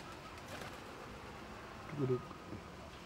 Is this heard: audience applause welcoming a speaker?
no